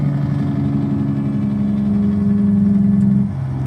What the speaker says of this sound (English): So it's a Slavjerry Series 60, but when you put the engine in, it comes with 3 engine sounds